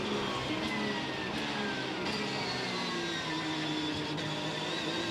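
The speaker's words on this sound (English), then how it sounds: "Listen to the whine in the engine, the transmission as it does the downshift for the corner." A race car at Sebring, its engine and transmission whining steadily as it downshifts for a corner, with rising and falling tonal whines over a continuous roar of track noise.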